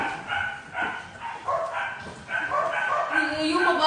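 A dog barks and yips repeatedly in short bursts at close range, with a few whimpering notes toward the end.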